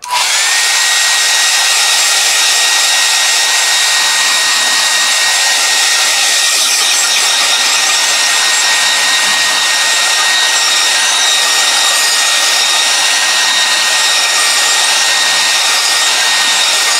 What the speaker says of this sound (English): I'm just gonna make a little bit of noise for a few minutes with this hair dryer.